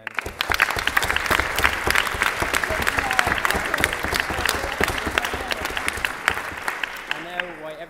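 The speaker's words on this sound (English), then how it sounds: "So just give the judges for this evening a round of applause." Applause from a debate audience honouring the judges at a competition final, a dense, steady round of clapping that fills the room for several seconds before fading into a voice starting to speak at the end.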